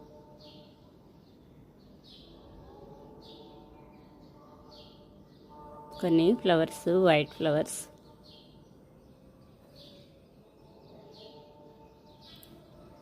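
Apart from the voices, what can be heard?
early morning birds chirping in a garden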